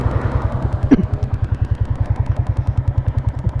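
A motorcycle engine idles nearby with a steady, rapid thumping pulse, and a single clunk is heard early on.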